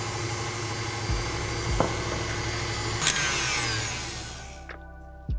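An electric mixer beats a sweet potato cinnamon roll mixture in a bowl, a steady close motor whine with occasional knocks against the bowl, then spinning down and stopping with a few final clunks.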